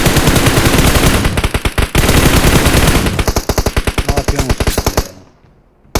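Rapid automatic gunfire rattles in PUBG Mobile, loud close bursts of evenly spaced shots with brief pauses, then a long final burst that cuts off into near silence.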